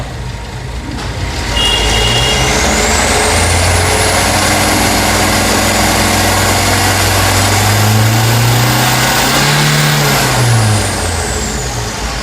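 Old diesel pickup with a glow plug fault, revved steadily to around 1500–2000 rpm, engine note rising and holding loud and close for several seconds before easing back, with no talk over it.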